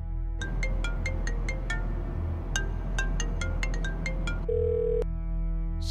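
An outgoing mobile call rings unanswered, a repeating pattern of short electronic ringback beeps in regular bursts, followed by a held steady tone near the end.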